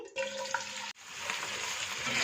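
Onions frying in about 225 grams of cooking oil in a pan over medium heat, giving a steady close sizzle that breaks off briefly and then resumes, with no talking.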